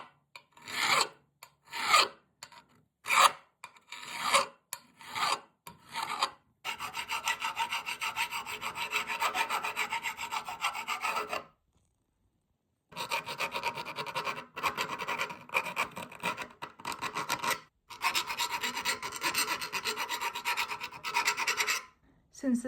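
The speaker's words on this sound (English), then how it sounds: "I am spending a lot of time with the file, just going over it, filling for any rough edges" A hand file rasps over the rough edges of cast iron pipe elbows, first in short separate strokes, then in long stretches of rapid back-and-forth filing broken by a brief pause, close and clear.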